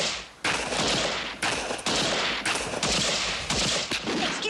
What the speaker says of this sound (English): There are wicked people out there shooting real bullets at us.